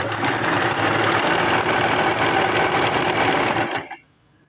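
Sewing machine running a zigzag stitch to attach lace onto cloth: a steady, loud, fast mechanical whirr and needle chatter that continues without pause, then stops abruptly near the end.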